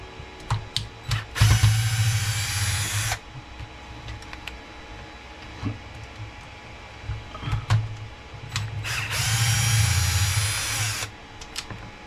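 Power driver removing 2.5mm screws on an Arrma Limitless V2 RC car: two close whirring bursts of about two seconds each, separated by quieter clicks and handling noises.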